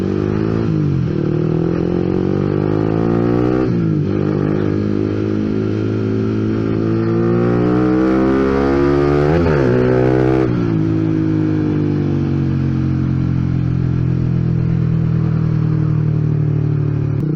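A motorcycle with a loud racing exhaust revs repeatedly, pitch rising and falling in sweeping bursts, very close and loud, with no voices.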